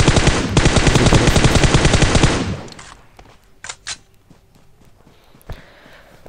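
Dense, rapid automatic gunfire from a shooter video game fills the first couple of seconds, then gives way to a few scattered, sparser shots and clicks; no one talks.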